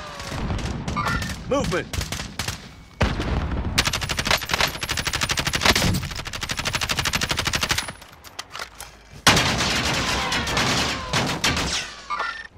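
Heavy automatic gunfire from Call of Duty: Modern Warfare erupts in long, loud bursts of rapid shots with brief pauses between them, while a voice speaks briefly amid the firing.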